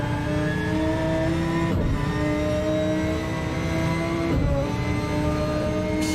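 GT race car engine at Suzuka drops into first gear through the final chicane, a loud harmonic engine note with two sharp downshift breaks in between, close and sustained, with no talk.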